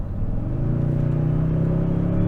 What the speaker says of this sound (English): So 583 pound-feet of torque pedal down.